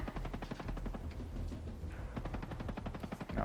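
Rapid automatic gunfire in the tactical shooter game Ghost Recon Breakpoint, a fast steady rattle of shots lasting throughout, fairly quiet and dense, with no talking.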